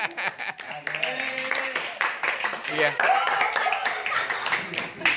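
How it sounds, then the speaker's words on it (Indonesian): A classroom of students claps for a student group, a short patter of hand claps mixed with chatter and voices talking over it, moderately close. "Ya, baik, tepuk tangan buat kelompok tua."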